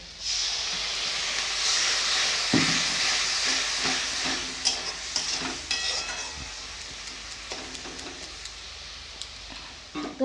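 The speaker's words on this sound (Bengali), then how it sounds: "হলুদ গুঁড়ো ধনে গুঁড়ো এটাকে ভালো করে কষাতে হবে সামান্য একটু জল" Turmeric and coriander powder sizzle and hiss in a pan with a splash of water, a loud steady frying noise with scattered utensil taps as the spices are stirred.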